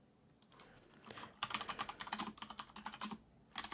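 Typing on a computer keyboard, a fast quiet patter of close key clicks in uneven bursts with brief pauses, heard alone.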